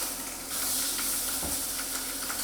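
A sea bass fillet fries in a hot pan, giving a steady close sizzle and hiss with small crackles and a soft bump as the fish is turned, with no talking.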